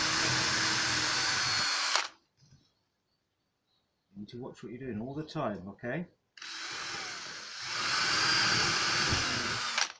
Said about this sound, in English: And now we need to drill the other one out as well